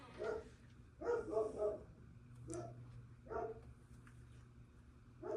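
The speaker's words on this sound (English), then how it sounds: "And there's my dog barking at the neighbors." Dog barking at neighbors near a vintage home, in four separate bursts of several barks each spread across the stretch, moderately loud and fairly close, with no talking over them.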